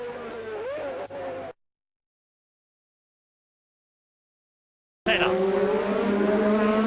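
Ayrton Senna's McLaren Honda racing car lapping the Adelaide street circuit, a loud, high engine wail rising in pitch, then cutting out into total silence before another car's shrill engine roars back in.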